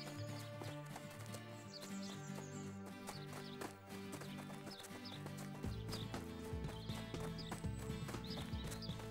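A horse galloping after the gingerbread man in an animated fairy tale, steady clip-clop hoofbeats running under bright, busy background music throughout, with no voices.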